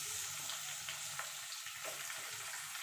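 Chicken pieces dropped into a hot pan for chicken stew give a steady, close frying hiss that runs throughout, with faint stirring scrapes on top and no voices.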